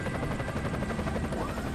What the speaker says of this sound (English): Helicopter with guns and missiles and stuff